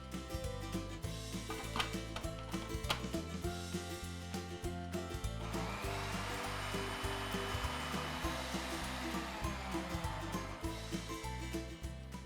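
A food processor whirs loudly and steadily as it minces fresh basil leaves for pesto, the blades running continuously for several seconds with a dense, even grinding roar and no voices.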